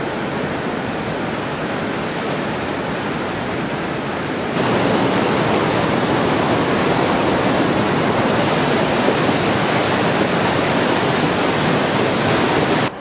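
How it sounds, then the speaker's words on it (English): A river rushes beneath an old bridge on a trekking route in Nepal, a loud, steady broadband roar of flowing water that grows noticeably stronger partway through and continues unbroken with no voices. "so you can use this old bridge to cross the river"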